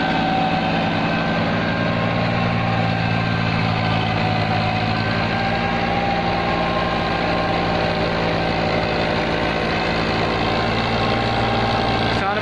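A 2011 New Holland 5500 tractor engine pulling a 9-foot rotavator in a farm field, a loud, steady diesel drone with a continuous deep rumble throughout, close by and unbroken.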